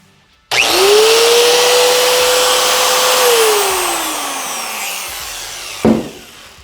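Angle grinder after a brush replacement, switched on to a loud, close whine that holds steady, then winds down in pitch as it is shut off, ending with a clunk.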